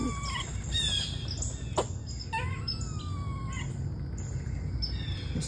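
A cat chatters its teeth in quick, chirpy, twittering bursts, fairly close and clear over a steady low background hum, with no talking.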